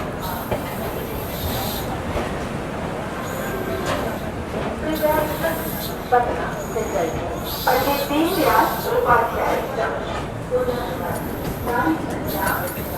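The Sampoorn Kranti Express runs after departing Patna Junction, with a steady rumble and rattle of wheels and carriages heard from on board while a voice talks over it.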